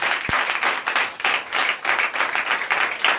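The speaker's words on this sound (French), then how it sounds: "Et donner de vives acclamations." A church congregation claps together in a lively, continuous burst of applause, many hands close by forming a dense rippling sound throughout, with no speech over it.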